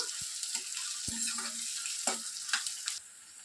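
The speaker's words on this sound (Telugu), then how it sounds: "బ్రౌన్ కలర్ వచ్చేంత వరకు లైట్గా వేగితే చాలు" Onions sizzle lightly in an oil-filled pan, a steady soft frying hiss broken by a few scraping stirs and clinks of a spatula, close and fairly quiet.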